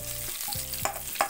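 Garlic fries in a pan for tempering with curry leaves, a close, continuous sizzle broken by a few sharp stirring scrapes, with no talk.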